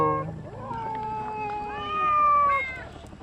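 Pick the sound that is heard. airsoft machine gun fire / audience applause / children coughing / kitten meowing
kitten meowing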